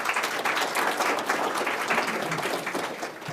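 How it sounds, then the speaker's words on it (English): Audience clapping at a State of the City event in Avon Lake, a steady dense round of applause filling the room at moderate level without a break. "Actually, since you're clapping"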